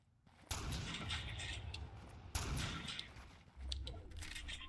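Gunfire exchanged between players in Fortnite on Nintendo Switch, heard as dense bursts of shots in two main waves with a short gap between them, moderately loud and steady, with no talking over it.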